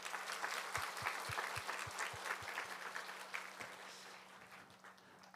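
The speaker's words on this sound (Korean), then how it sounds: "박수 한번 쳐줍시다" A church congregation claps for its young Remnant group during a worship service: scattered, fairly soft applause in a reverberant hall, with a few sharp distinct claps early on, fading toward the end over a low steady hum.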